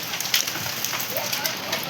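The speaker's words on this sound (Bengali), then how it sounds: "এই দেখো পুরো কটকট করে শিল পড়ছে। কটকট করে আওয়াজ হচ্ছে," Hail falls outdoors with a dense crackling patter of small ice pellets striking surfaces, close and continuous with scattered sharper ticks. Nobody speaks.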